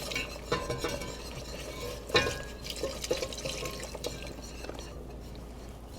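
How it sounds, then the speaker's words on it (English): Warm cream is poured slowly into a sauce on the stove and stirred in, giving soft liquid swirling and a few sharp spoon knocks against the pan, fairly quiet with faint background sizzle. "I'm going to take my cream that I warmed up and slowly add it in."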